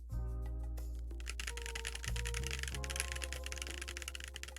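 Rapid typing on a KBD8x MKII mechanical keyboard with Boba U4T switches, a steady patter of clicky keystrokes running under a sustained musical backdrop with low bass notes.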